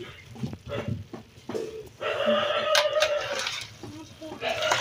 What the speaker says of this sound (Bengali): সুন্দর মতো নেড়ে করে নিচ্ছি।